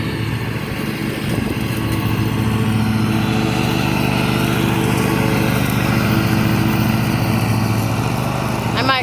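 A lawn mower cuts grass on church grounds, its engine droning steadily and close by with little change in pitch.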